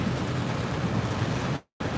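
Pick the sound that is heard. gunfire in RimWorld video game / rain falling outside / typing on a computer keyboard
rain falling outside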